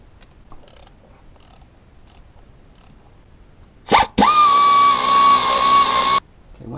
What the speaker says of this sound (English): We've got a few bolts here, one right here. We'll want to remove that.